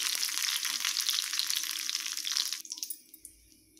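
Mustard seeds, dried red chillies and curry leaves spluttering in hot oil for a tamil-style tempering for beetroot pachadi, a steady dense crackle that cuts off sharply near the end, leaving a few faint pops.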